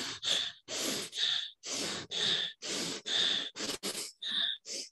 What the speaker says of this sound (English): So let's do one that is much faster. We're gonna breathe very fast.